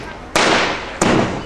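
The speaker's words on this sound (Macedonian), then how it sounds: "Експлозивна мрква." A cartoon explosive carrot goes off in two sharp, loud bursts about half a second apart, each with a short crackling tail.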